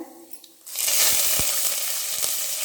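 Curry leaves hit hot oil for brinjal puli kuzhambu with a sudden loud, close sizzle that stays strong and continuous, with faint stirring taps and no talking.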